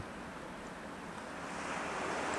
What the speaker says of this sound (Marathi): समुद्राच्या लाटाचा आवाज ऐकत होते